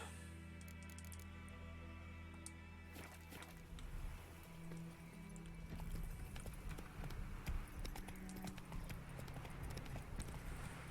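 Roach the horse in The Witcher 3: Wild Hunt breaks into a gallop, hoofbeats starting sparse then building into a dense, louder running clip-clop under steady game music.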